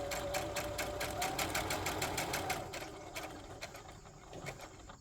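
Domestic sewing machine back stitching to lock seam stitches on a boxy bag, a rapid steady run of needle strokes for about three seconds, then a slower, quieter stretch of separate clicks and whirs, close and alone.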